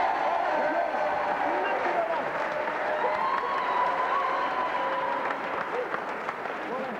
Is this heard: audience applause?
yes